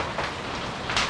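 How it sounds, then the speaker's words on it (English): Large hail pours down during a sudden storm, a dense, loud hiss of countless impacts with a few sharper bursts, steady and without pause. "That's some of the biggest hail I've ever seen"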